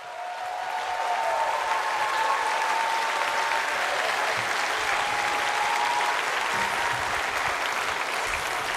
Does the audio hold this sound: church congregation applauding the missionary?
yes